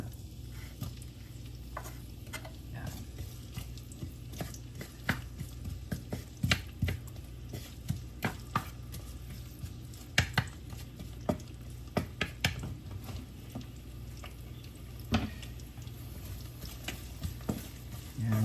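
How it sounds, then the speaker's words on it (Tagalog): Onions sautéing in a hot pan as pork and chicken adobo gets started, a steady low sizzle with repeated stirring scrapes and light clacks of the utensil throughout, no voices. "So gisa muna natin ang onions."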